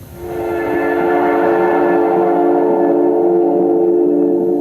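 A steady synth tone with its higher frequencies removed by a low-pass filter, swelling in and then holding as a loud, dense, sustained drone with no voices.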